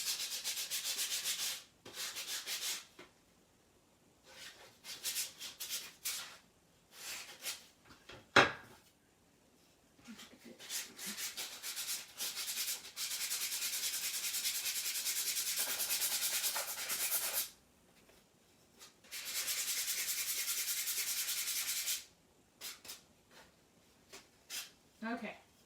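Small wooden craft houses are sanded by hand, making long loud scratchy rasping passes in bursts that stop and start, close up, with brief knocks of wood between them.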